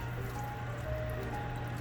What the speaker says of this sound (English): we're gonna go ahead and put water back in